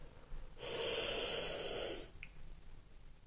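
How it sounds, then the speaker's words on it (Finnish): One long, deep breath drawn in through the nose for about a second and a half during a soft-spoken relaxation exercise, close and breathy against a quiet background. "Vedä keuhkot niin täyteen ilmaa kuin saat."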